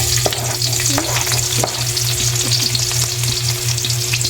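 Onion dropped into hot cooking oil sizzles loudly and steadily up close, with a few stirring scrapes in the pan while ginisang boktit is cooked; no one speaks.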